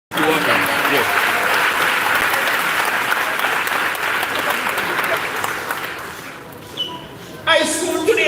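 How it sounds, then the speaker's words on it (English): Loud, sustained applause and cheering from an audience at a high school graduation in Jamaica, starting abruptly and thinning toward the end, with a few voices breaking through as it fades. "clap them loud for me"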